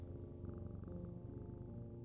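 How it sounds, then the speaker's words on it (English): Steady, close cat purr from a cat named Jupiter in the video game Strange Antiquities, a continuous low rumbling drone lasting about two seconds with no talk over it. "Oh, is that a cat?"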